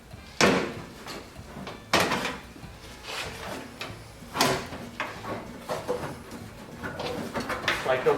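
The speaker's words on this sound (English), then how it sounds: "If I can get the hood open." The hood of a lawn tractor rescued from a scrap yard is pried open, giving several sharp clunks and knocks spaced a second or two apart, followed by lighter rattles and handling noises.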